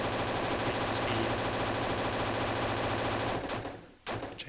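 Weapon fire in a 2D shooter video game: a dense, fast, continuous stream of rapid gunshots that keeps going for several seconds, then stops, and a short final burst follows.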